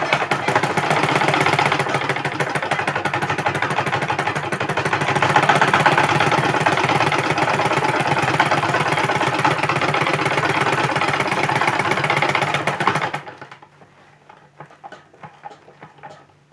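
A sewing machine top stitching a trouser zipper runs loud and steady for about thirteen seconds with a rapid mechanical patter, then stops, leaving only faint handling clicks.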